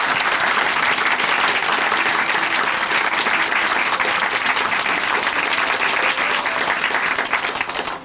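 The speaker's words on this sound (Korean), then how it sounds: "다시 한번 박수 보내드릴게요." Church congregation applause at Chuncheon Hanmaum Church, sustained even clapping from a large crowd that fills the room for about eight seconds before tapering slightly.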